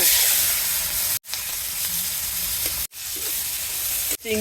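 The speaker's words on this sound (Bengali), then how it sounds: "এখন চিংড়ি মাছ ভেজে নেবো।" Shrimp frying in hot oil, a dense, loud hiss of sizzling heard up close and broken by two brief pauses, with no voices over it.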